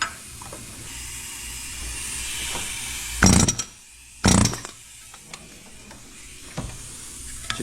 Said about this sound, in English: It's a pneumatic fan clutch remover.